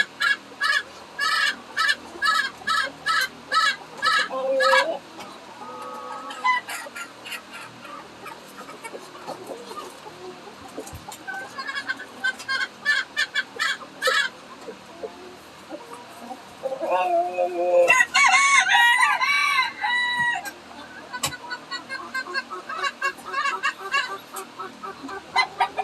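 Farm chickens clucking in quick bursts with a rooster crowing, loud and close, the calls coming in dense clusters that pause and resume over nearly half a minute.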